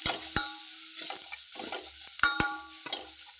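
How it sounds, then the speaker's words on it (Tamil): Crushed cumin, black pepper and garlic stirred in a frying pan for a tomato rasam, with scattered close spatula scrapes and taps against the pan over a soft sizzle. "இடித்து இதில் போட்டு லைட்டாக கொஞ்சம் மிக்ஸ் பண்ணிக்கலாம்."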